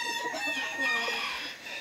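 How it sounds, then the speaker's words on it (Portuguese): Brahma Splash chickens, a rooster and four hens, cluck in a low continuous chatter with soft overlapping calls, close and steady throughout. "São Brahma Splash, tem um galo e quatro galinhas."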